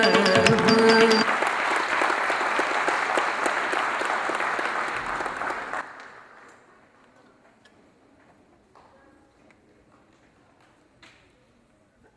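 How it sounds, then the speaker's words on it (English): An audience applauds a classical dance debut performance of Bhama Kalapam with full, dense clapping for about six seconds, which then dies away into near silence with a few scattered sounds. "Let's give a big round of applause once again"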